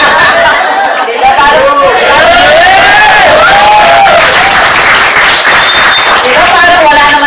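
Dense crowd applause and clapping at a distributors' orientation event, loud and continuous, mixed with cheering, chatter and voices talking over it.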